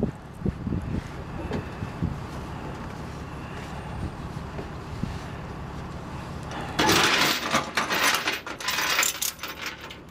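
A chain tie-down being cranked tight on a flatbed tow truck outdoors, starting with low rumbling and wind, then sharper metallic clinks and rattling that grow louder and denser in the latter half.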